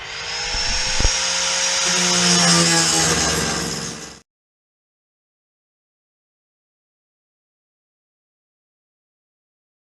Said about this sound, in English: I'm going to put this on there, start sanding